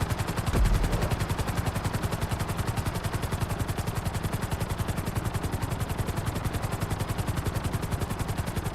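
Rapid, continuous rotor thumping of a helicopter in GTA 5, loud and close, holding a steady pulse throughout with a faint synthetic, game-like quality.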